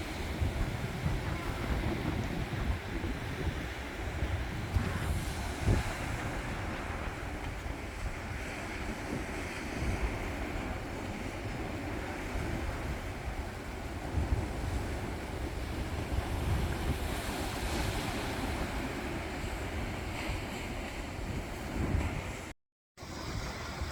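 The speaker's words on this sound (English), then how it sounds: "Big old waves rolling in." Ocean waves break on a Hawaii beach in a steady, full roar of surf with heavy wind buffeting the microphone throughout. The sound is continuous and has no clear gaps.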